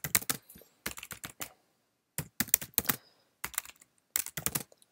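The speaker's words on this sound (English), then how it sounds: "So I'll type as the comment here" Someone types a commit comment on a computer keyboard: quick clustered bursts of crisp close-up keystrokes broken by short pauses, with no voice.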